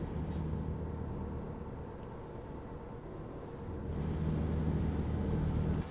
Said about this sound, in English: seems trucks at ETS2 are louder than ATS.